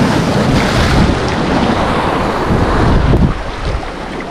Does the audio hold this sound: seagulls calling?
no